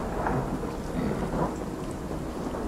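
Rain and rolling thunder in the video game Arise: A Simple Story, a steady loud downpour with low rumbles swelling and fading throughout, no voices.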